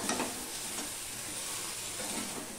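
Jaggery melts in a pan over a low-to-medium gas flame while being stirred for green mango pickle. A steady close sizzle and hiss runs with soft stirring scrapes, and no one speaks.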